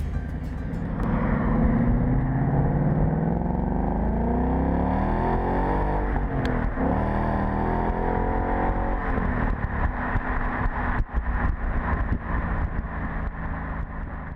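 Ford Mustang engine at a horse-racing derby, revving and surging in acceleration, a loud continuous roar that climbs in pitch and holds steady throughout, with no talking.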